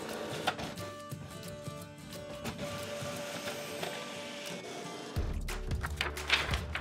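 A printer runs a print job sent over AirPrint, giving a steady mechanical whir with faint feed noises and a louder, heavier stretch near the end.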